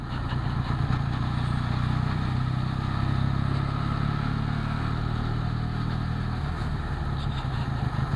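A vehicle driving along a coastal road in Phuket, with a steady low engine drone and road rumble heard from inside, continuous and fairly loud throughout.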